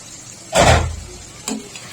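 Spicy goat meat cooking in a covered pan: the lid comes off and a loud burst of sizzling rises as the meat is stirred, then fades, followed by a brief clink near the end.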